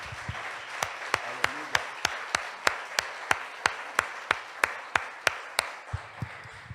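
A church congregation claps in steady unison during a sermon, a sharp and evenly spaced run of about twenty claps that carries on throughout, with no talking over it.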